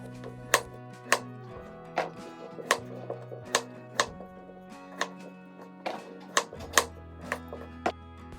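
A knife chops potatoes on a cutting board, cutting them into chunks for a dinner dish, with a dozen or so crisp, sharp strikes at an uneven, unhurried pace, close and clear with no voices.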